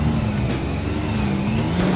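A Can-Am Maverick X3 side-by-side drives off-road in low gear with four-wheel diff lock engaged, giving a steady, loud engine drone with continuous rumble and some tyre noise throughout, no talking.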